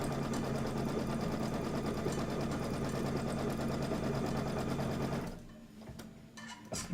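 A sewing machine stitches a table topper, running in one continuous fast, even whir for about five seconds before stopping, followed by faint handling noises.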